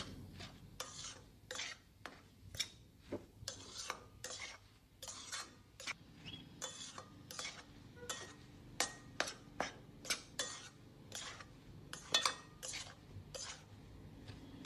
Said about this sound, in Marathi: मीडियम टू स्लो फ्लेमवर आपल्याला हे परतून घ्यायचे.